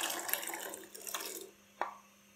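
Boiled chickpeas tipped with their cooking water into a pot during samosa chana preparation, heard as a soft, steady watery rush that stops and then gives one sharp splash, faint and without talking.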